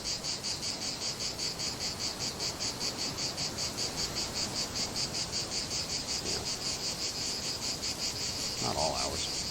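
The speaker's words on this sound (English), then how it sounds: "They're cicadas." Steady, dense pulsing insect chorus of cicadas at night in a rural spot, loud and continuous throughout, with a brief faint tonal sound near the end.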